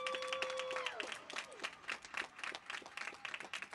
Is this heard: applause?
yes